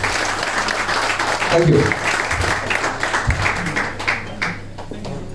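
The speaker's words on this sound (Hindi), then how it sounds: "उनके लिए जोरदार तालियां तो बनती है यार" An audience claps steadily at a water demonstration and testimonial session, a moderate, continuous patter that tapers toward the end as a voice speaks briefly over it.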